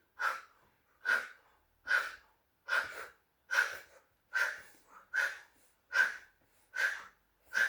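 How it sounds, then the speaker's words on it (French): Rapid Kapalabhati breathing exercise from a haka-style energy routine: ten sharp, forceful nasal exhales in a steady rhythm about one per second, close and loud, with no talking. "On peut utiliser la respiration Kapalabhati. J'expire quand je pars en arrière, j'inspire quand je reviens et je vais le faire hyper rapide."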